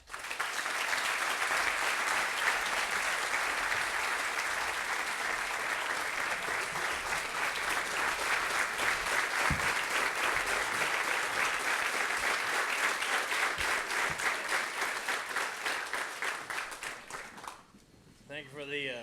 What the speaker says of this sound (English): Thank you for the applause and the standing ovation.